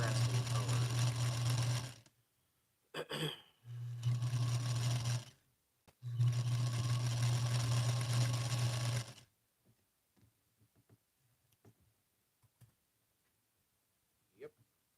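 A sewing machine stitches scrappy quilt pieces in three fast, loud, steady bursts of humming whir, with quiet pauses between them and a few faint clicks and soft voices afterward.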